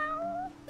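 A cat in the video game Final Fantasy XV gives a single short meow with a gliding pitch, clear and close with no talk over it.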